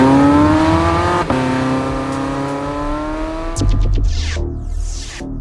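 A Porsche 918 Spyder hybrid's engine revs hard on a hot lap with a rising, loud howl through its gears, a sharp gear change, then a drop to a throatier roar and a fast up-shift.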